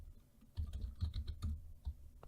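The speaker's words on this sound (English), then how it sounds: "Hard to type over the microphone." Quick, uneven clatter of keystrokes on a computer keyboard, close to the microphone, over a steady low background hum.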